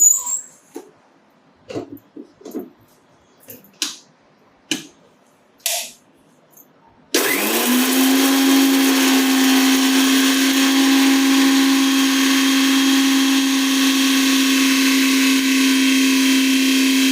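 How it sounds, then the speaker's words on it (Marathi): A kitchen mixer grinder starts up and runs loud and continuous, a steady motor whine with a droning hum, grinding garlic and cumin for spicy garlic sev, after several sharp clicks and knocks. "तर मी आता ही मिक्सरमध्ये लसूण आणि जिरं काढून घेते"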